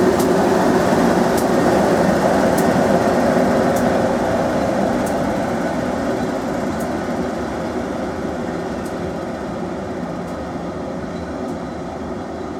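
A Class 90 electric locomotive, 90012 Royal Anglian Regiment, propelling the 17:55 service to Norwich out of the station, a steady rolling rumble with faint rhythmic clicks that gradually fades as the train pulls away.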